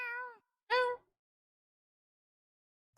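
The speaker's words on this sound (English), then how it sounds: "Forgot about the cat. I love that cat." A cat in the video game Tales of Xillia 2 meows twice, a short call followed by a louder, fuller one, both clear and close with silence between.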